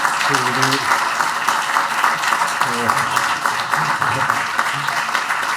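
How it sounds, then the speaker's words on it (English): An audience applauds Dr. Mike Biddle at the close of his keynote address, a steady wash of clapping running the whole time beneath a voice that keeps talking over it. "let's give Mike a round of applause"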